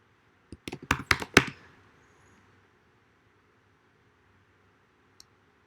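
A quick burst of computer keyboard typing enters a systemctl command in a quiet room. The keystrokes come close and crisp, then a single faint tap follows a few seconds later.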